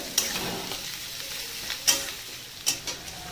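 Chopped onion and garlic frying in a pan, a steady broad sizzle with a few sharp stirring scrapes and clicks at intervals, close and moderately loud, with no talking.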